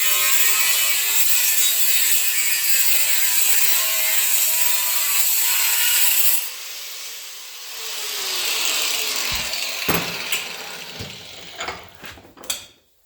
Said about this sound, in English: So I'll just clamp that in the vise here now. Just cut it off the cutting wheel.